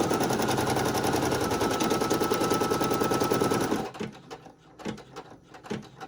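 A Brother PE800 embroidery machine stitching an applique hums with a fast, loud, steady rhythmic clatter for about four seconds, then stops, leaving faint clicks and handling sounds.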